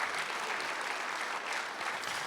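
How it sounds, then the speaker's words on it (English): A crowd delivers a big round of applause at a volunteer awards and recognition ceremony in Hayward, continuous dense clapping that stays loud and even from start to finish. "Let's give 5 Sikh Siva a big round of applause."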